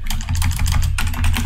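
Rapid, continuous typing on a computer keyboard, loud and close, with dense key clatter and only brief pauses while commands are entered.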